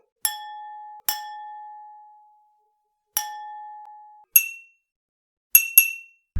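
Knives strike glass in six separate clinks, each a bright ringing ding that lingers and fades, the first few sustaining longer, the last ones quick and closely spaced, with no talking.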